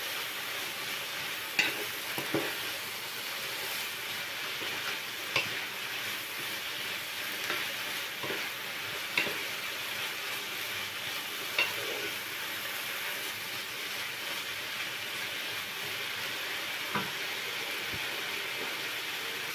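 Spinach cooks in a pan with a steady, soft, continuous sizzle, broken by occasional light clicks and scrapes of stirring.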